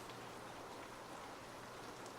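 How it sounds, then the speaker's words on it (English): Rain clicks and patters on windows in the Set Yourself on Fire video game, a soft, steady hiss of fine drops with faint scattered taps, quiet and continuous with no voices. "Sometimes the rain will accidentally play a few notes and you just think it'll start a melody."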